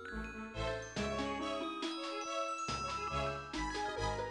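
Keys jingle in a video game, a bright metallic tinkling that rings out in a few overlapping bursts against layered game sound, with no talking.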